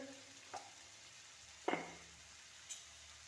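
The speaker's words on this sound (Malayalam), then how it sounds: "ക്യാപ്സിക്കവും തക്കാളിയും കൂടെ ഇട്ട് വഴറ്റാം." Chopped capsicum and tomato sauté quietly in a pan under a faint sizzle. A single clear scrape or stir stands out midway, with a couple of light clicks around it. No speech.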